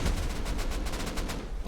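A base raid in the video game Rust, with rapid bursts of gunfire and explosions in a dense, loud volley of repeated shots close together, no voices.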